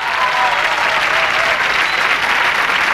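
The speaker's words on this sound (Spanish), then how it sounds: "Un aplauso para Charlie." A TV studio audience in 1986 applauds Soda Stereo's drummer Charlie with loud, dense clapping that holds steady for the whole stretch.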